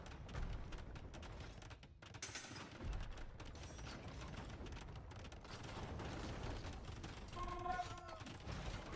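Siege and battle noise from an Age of Empires II match, where a bombard cannon fires amid clanking mechanisms, scattered shots and crashing impacts, all mixed under a dense, busy din with faint talk.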